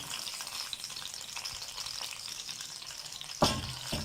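Chicken leg pieces sizzle and fry on a hot tawa griddle, a steady close crackle interrupted near the end by a louder burst as the meat is pressed and stirred.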